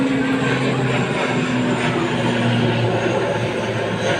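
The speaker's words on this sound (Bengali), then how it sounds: "এটা চট্টগ্রাম বিমানবন্দর থেকে উত্তোলন করলো ছোট বিমান" A small airplane takes off from Chittagong airport, heard as a steady droning engine roar from a beach in stormy, rainy weather, continuous and fairly loud without any talking.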